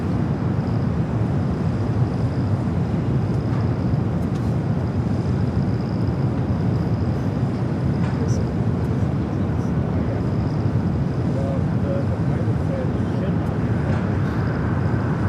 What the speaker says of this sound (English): At that diversion, Hawaiian Airlines Flight 867 on the downwind leg